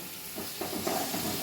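Eggplant sizzling as it fries in fish oil for a Bengali dish with potato and onion: a steady, fairly loud hiss of hot oil that swells slightly as the pieces settle, with no talking.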